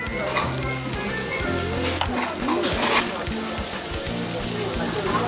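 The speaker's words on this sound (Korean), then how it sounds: "고기가 노릇노릇 구워질수록" Meat sizzling as it grills in a busy restaurant at lunchtime: a steady, close crackling hiss with scattered pops, running over a layer of tonal background music.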